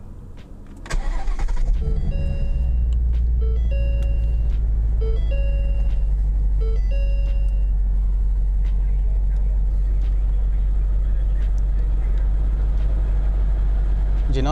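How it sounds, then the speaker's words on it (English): A 2015 Ford Mustang GT Premium with manual transmission cranks and fires at about one second, then settles into a loud, steady rumbling idle, while a repeating electronic chime rings several times over the engine. "You can start the engine"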